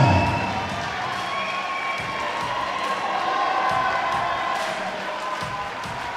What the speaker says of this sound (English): Once again, big round of applause